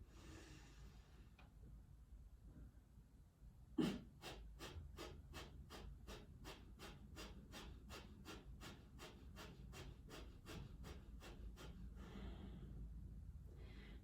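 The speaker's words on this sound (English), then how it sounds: "So it's a big inhale through the nose, and then you're pumping the belly, drawing it back toward the lower spine until you're empty." Breath of fire yoga breathing: a big inhale through the nose, then a quick even series of about twenty sharp nasal exhales as the belly pumps, rhythmic and close but soft, ending in quieter breathing.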